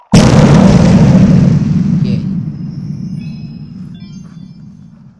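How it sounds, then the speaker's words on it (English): A loud explosion bursts in Kirby and the Forgotten Land, a sudden close blast that booms and then rumbles away over several seconds into a fading low tail. "So what did you think of that last explosion?"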